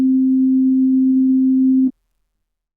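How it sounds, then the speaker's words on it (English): A steady pure sine tone from an Arturia CMI V synthesizer holds one clean pitch for nearly two seconds, then cuts off abruptly, leaving silence before a brief faint noise at the end. "A sine wave, as you will know, carries only one single frequency in its spectrum."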